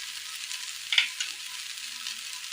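Chili powder hits hot coconut oil in a pan, giving a soft, steady hiss of sizzling with a brief faint clink of stirring near the start.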